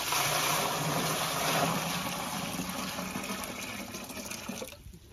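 Water from a container pours steadily over olives being cured in a jar, a continuous splashing, gurgling stream close by that cuts off abruptly near the end, with no talking.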